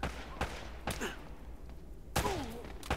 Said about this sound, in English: I can still blind fire behind cover.